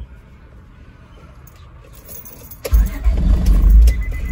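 A 2002 Honda Odyssey's engine is quiet at first, then cranks and catches, bursting into a loud, close running rumble for the last couple of seconds.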